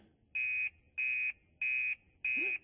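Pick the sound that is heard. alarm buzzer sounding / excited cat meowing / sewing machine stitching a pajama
alarm buzzer sounding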